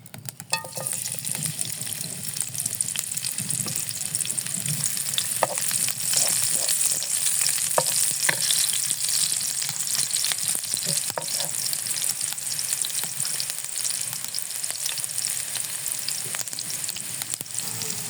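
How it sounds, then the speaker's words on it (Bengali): Onions fry in a pan of oil until crisp for potato chops, giving a steady, fairly loud sizzle that runs unbroken from start to finish, with occasional small pops and stirring clinks. "আমি আলু চপ করতে পেঁয়াজ ব্রেস্তা করে নিব আগে"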